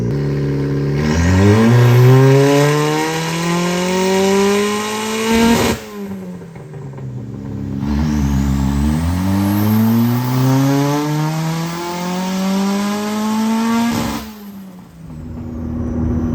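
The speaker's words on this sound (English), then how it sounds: "We're just going to make a pull with no changes and see how much power it makes." Turbocharged Mazda Miata on 15 psi boost with 1000 cc injectors makes two full power pulls, the engine climbing steeply in pitch to a loud peak before cutting off, with a short lull and turbo whoosh between runs.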